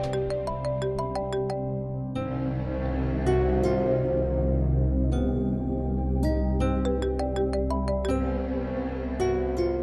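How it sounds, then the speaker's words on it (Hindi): A mobile phone plays a melodic ringtone indoors, a loud repeating electronic tune of bright plucked notes over a sustained backing that rings continuously for about ten seconds with no talking. "तुम्हारा फोन बज रहा है।"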